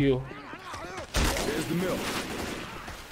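Gunfire in Left 4 Dead 2 on the Sugar Mill map rings out in a dense burst of shots that starts abruptly and keeps crackling, after a voice speaks briefly beforehand.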